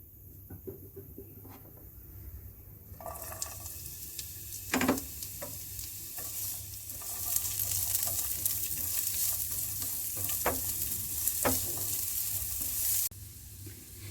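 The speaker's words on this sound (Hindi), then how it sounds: "2 टेबल स्पून ऑयल का डालेंगे। प्याज डालकर हल्का सा फ्राई करेंगे।" Chopped onion dropped into hot oil starts a soft frying sizzle that swells and holds, with occasional spoon clinks and scrapes against the pan, close and alone.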